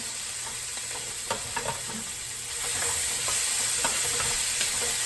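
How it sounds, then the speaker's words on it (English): Mushrooms and cheesesteak meat frying in a pan, a steady close sizzle and hiss with scattered light utensil taps as the food is turned, growing slightly louder midway, no voices. "So we're gonna cook that down till the mushrooms are done."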